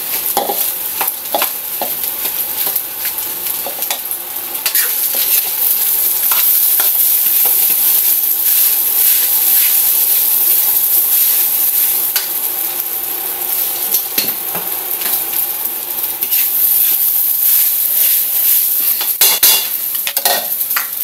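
Leftover rice stir-fried in a pan for fried rice: a steady, close sizzle with continuous scraping and stirring of the grains, spatula knocks scattered throughout, no voices.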